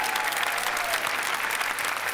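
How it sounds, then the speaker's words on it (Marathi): Continuous, full applause from a studio audience at a Marathi comedy show welcoming actor Chinmay Udgirkar, an even wash of clapping with no pause, faint music in the background. "जोरदार टाळ्या चिन्मय उदगीरकर साठी."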